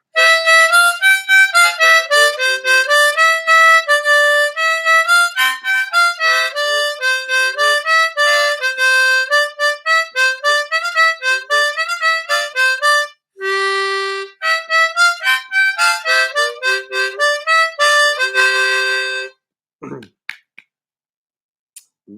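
Ode to Joy on a diatonic harmonica: a clear, close run of reedy held notes in a steady melodic rhythm, briefly pausing midway and ending with a few quiet knocks.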